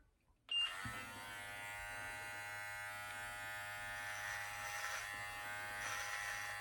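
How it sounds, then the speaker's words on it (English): An electric beard trimmer switches on and runs with a steady, close mechanical buzz, humming evenly for several seconds while a beard is shaped and detailed. "I am just going to start with the trimmer here."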